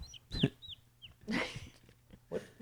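A person mimics clucking chicken or bird calls in three short bursts, each a quick run of squawky, chirping notes with quiet pauses between.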